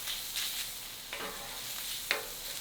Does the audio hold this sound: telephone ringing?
no